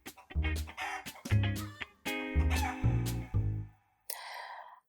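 A little red hen in a barnyard clucks in a quick run of loud, close, harmonic calls, a short burst of soft rustle closing the sequence.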